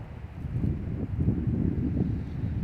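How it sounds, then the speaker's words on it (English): Steady low wind rumble buffeting outdoors, continuous and fairly loud with gusty fluctuations, no voices. "I'm standing out here and it's a little windy."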